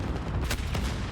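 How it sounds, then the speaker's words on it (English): Dense gunfire in a Call of Duty League 2020 search and destroy match, a continuous loud crackle of shots with a couple of sharper bursts, no talk over it. "A lot of gunfire going down"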